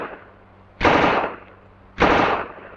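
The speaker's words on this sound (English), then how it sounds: "A Tommy gun." A Tommy gun fires two loud, close bursts of rapid automatic fire, each lasting about a second, separated by a brief pause, with the echo tailing off after each, in a 1943 World War II US Army training film.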